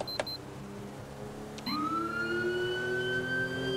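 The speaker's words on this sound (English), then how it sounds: "They're gonna know I'm coming with these sirens" A police car siren in GTA 5 with the LSPDFR mod starts up after a short pause and holds a steady rising wail, loud and close, over a constant engine-like rumble.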